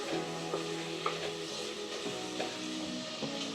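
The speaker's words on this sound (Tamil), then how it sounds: "இந்த இஞ்சி பூண்டோட நல்லா எண்ணெய் கசிஞ்சு வர அளவுக்கு இது கொஞ்சம் வேகட்டும்" Mutton fries in oil with ginger-garlic paste for a Chettinad curry, a soft, steady sizzle near at hand broken by several light clinks and scrapes of stirring.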